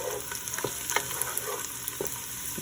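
Beef sizzles in a pan as it is stirred for okra stew, a steady close frying hiss broken by soft scraping stirs every half second or so, with no talk.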